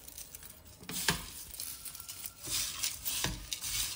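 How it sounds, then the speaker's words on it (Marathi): Raw banana chivda being stirred and tossed in a pan, with soft scraping and rustling strokes and a couple of sharper clinks of the spoon against the metal, close by with no talking. "आणि हे आता आपण छानपैकी मिक्स करणार आहे"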